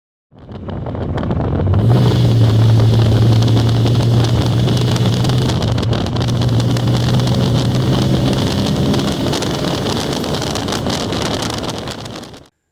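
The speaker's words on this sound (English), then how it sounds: "now I can steer it into a turn and hit the throttle, and it just goes." A BMW fitted with a limited slip differential accelerates through a turn, its engine note holding a steady pitch under heavy, constant wind rush and road roar for about ten seconds.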